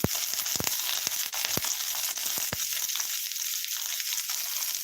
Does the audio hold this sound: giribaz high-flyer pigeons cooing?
no